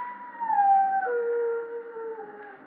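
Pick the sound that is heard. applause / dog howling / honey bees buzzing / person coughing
dog howling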